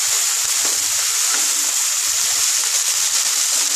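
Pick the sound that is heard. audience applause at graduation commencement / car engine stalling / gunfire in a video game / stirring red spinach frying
stirring red spinach frying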